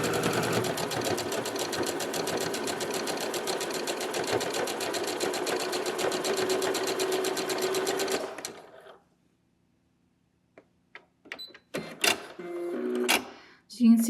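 A sewing machine stitches a trouser dart at a steady, fast hum for about eight seconds, then stops, leaving scattered fabric handling noises and a brief voice.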